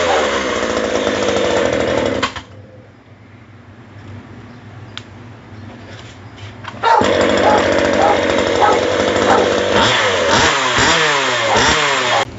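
A scooter engine revving on a test ride after fitting a new clutch, loud and close, dropping to a low idle for several seconds and then surging back with rising and falling revs.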